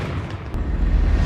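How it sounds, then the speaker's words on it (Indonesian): A long-range sniper shot from a Blacking rifle lands as a deep, loud rumbling boom that holds steady and heavy for the whole short moment, with a brief sharp crack near the middle. "hal itu juga merupakan tembakan terbaik dan terjauh sepanjang masa"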